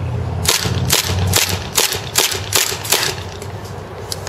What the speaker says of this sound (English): it kind of gives a nice loud thunk when you shoot it compared to the regular 1911.